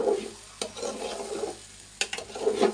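Bangladeshi-style bhuna khichuri frying in a pot, scraped and stirred with a spoon in short rough bursts over a continuous close sizzle, with a couple of sharp metallic knocks against the pot.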